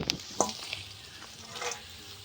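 Big tilapia fish frying in hot oil, a soft steady sizzle with a few sharp spatters near the start and a brief swell later, fairly faint and with no talking.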